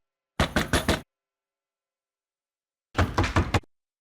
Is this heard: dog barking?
no